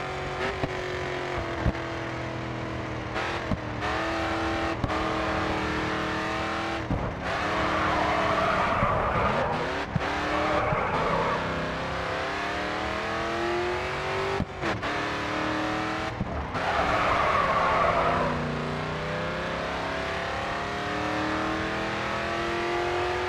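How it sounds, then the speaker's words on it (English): In Grid 2 racing gameplay, a race car engine revs and shifts while tires squeal repeatedly through drifts, with sustained screeching bursts between engine pulls, loud and continuous. "drifting can be a good way of maintaining momentum through corners."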